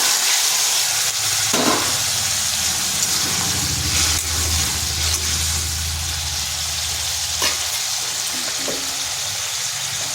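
Potatoes, tomatoes and flat beans sizzling in a hot pan, a loud continuous hiss with a low rumbling undertone and a few brief scraping knocks, close and steady throughout.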